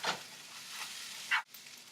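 Pinto beans and chopped veggies sizzle in a hot pan, soft frying hiss punctuated by a few brief louder bursts, likely from stirring, with no talking.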